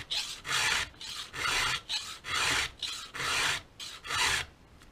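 Hand file rasping across an axe head during custom sharpening, in six steady, loud, rhythmic strokes of roughly half a second each, close up with no talking.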